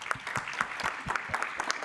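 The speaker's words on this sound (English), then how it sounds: "A round of applause for the panelists." Brief, faint applause for panelists at a democracy forum, with a handful of distinct claps in a loose, uneven rhythm, some distance away.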